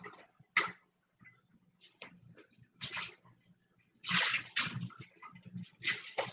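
Running water rinsing out a container in a lab, in short irregular bursts of splashing and gurgling between quiet gaps, fairly faint and close.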